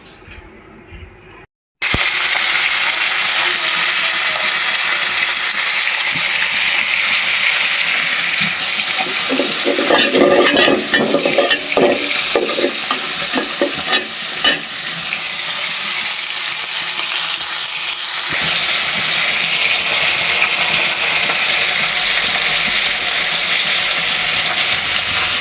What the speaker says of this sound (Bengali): যেভাবে আলু বেগুন খুব ভালোভাবে কষিয়ে নিচ্ছি আমি